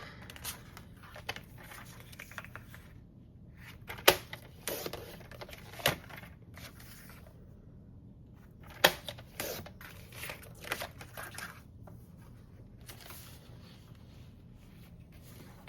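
White cardstock being cut into pieces with a paper trimmer or scissors, scattered crisp slicing and rustling bursts with sharp snaps between quiet pauses, close up.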